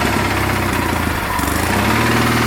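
A cold engine idles just after a reluctant start, a loud, steady, rough mechanical drone with a rapid chugging pulse and no voices.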